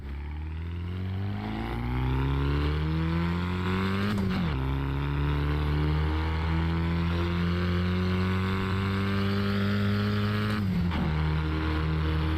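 Simulated race car engine in the Assetto Corsa Evo racing game, a deep loud groaning drone that climbs steadily in pitch, drops sharply twice at gear changes, then climbs again.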